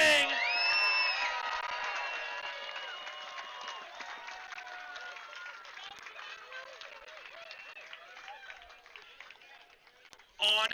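Spectators at a longboard surf contest applaud and whoop for the prize winners, a strong burst of clapping and cheers that gradually tapers off over about ten seconds.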